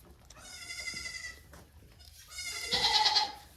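Baby goats, about nine or ten running around, bleating in bursts, a couple of high calls close by with some rustling in between.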